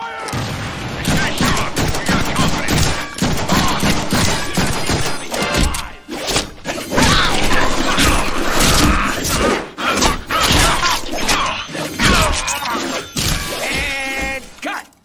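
In the Deadpool video game, an explosive charge goes off, followed by a long, loud, chaotic run of bangs, crashes and shattering debris, with game voices heard through the din.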